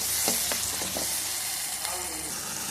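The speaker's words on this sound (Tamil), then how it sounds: "இதில் நம்ம தக்காளி போட்டுக்கலாம். தக்காளி ஆட் பண்ணிக்கிறேன். நல்லா வதங்கட்டும்." Tomatoes sauté in hot oil in a pan, giving a steady loud sizzle with a few short scraping stirs near the start.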